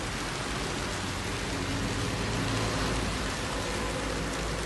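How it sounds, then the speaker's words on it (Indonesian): Drizzling rain falls outdoors under a gloomy afternoon sky where rice grain is set out to dry, making a steady, dense hiss of drops that stays even throughout, with no voices. "Dioyak hujan."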